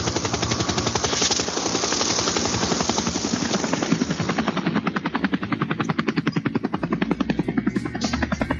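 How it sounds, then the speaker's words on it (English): A helicopter flies nearby, its rotor beating in a steady rapid chop over a broad roaring engine wash that stays loud throughout. "You can take your own helicopter, Joe."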